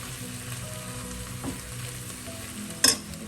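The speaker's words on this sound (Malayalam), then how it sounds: "ഉള്ളി ചേർത്ത് നന്നായി ഒന്ന് മിക്സ് ചെയ്യുക" Onions frying in a pan for a fried chicken curry give a low, quiet sizzle with a few stirring scrapes and a sharp utensil knock near the end.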